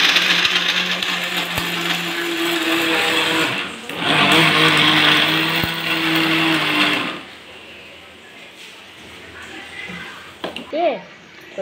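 A kitchen mixer grinder whirs loudly while grinding lentils with jaggery, running in two bursts separated by a short pause, then stopping; a voice speaks briefly near the end.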